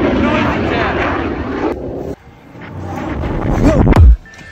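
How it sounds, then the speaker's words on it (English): Fighter jets pass over a windy lakeside bank-fishing spot near Little Creek: a loud broad roar, then a quieter gap, then a swelling rush that peaks and drops off, with someone talking through it. "I'm apologize for all that wind noises and jets and cars"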